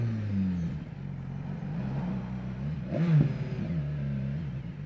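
A BMW S1000XR motorcycle engine rises and falls as it accelerates, heard steadily from close by with a sharper surge near the middle.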